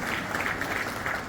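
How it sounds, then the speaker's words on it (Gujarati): Audience applause at a Lions Clubs International region conference, a dense, steady clapping from a crowd lasting just over a second. "મિત્રો જોરદાર તાળીઓ."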